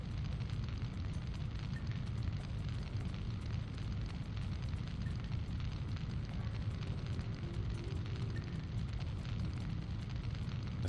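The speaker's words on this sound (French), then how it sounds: "cette bombe va exploser" A bomb detonation in the video game Syphon Filter, a continuous loud, low roaring rumble that fills the whole stretch without a break, dense and steady like a sustained blast or fire.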